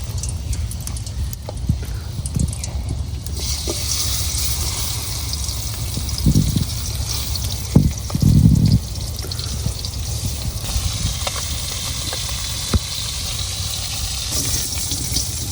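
Fish sizzling in hot oil over an outdoor village cooking fire on a windy day, a steady loud hiss and crackle with occasional pops and spatters, close up, no voices over it.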